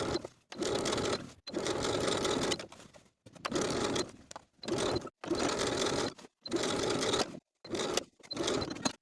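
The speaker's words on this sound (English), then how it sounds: "sew that facing to the seam allowance underneath with an 1/8 of an inch seam allowance all the way around" A sewing machine understitches a garment facing to the seam allowance, running close and loud in about seven quick bursts separated by short pauses.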